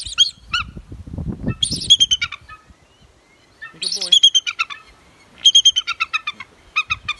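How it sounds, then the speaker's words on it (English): African fish eagle giving loud, ringing yelping calls in repeated bursts, three clear phrases of rapid clipped notes separated by pauses, with some low rustling and handling noise early on. "Singing like only a fish eagle does."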